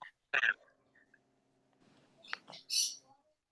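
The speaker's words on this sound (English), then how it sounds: "Oh, I'm hearing birds." Several short, high bird chirps come through faintly against a quiet background, scattered irregularly with a low hum in between.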